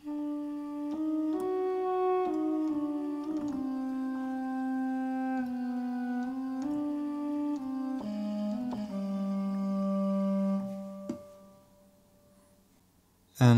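A desert-style theme melody from the Logic Pro X East West Silk sample library plays its opening phrase as a steady, sustained line over held lower tones, running continuously at an even level before ending abruptly.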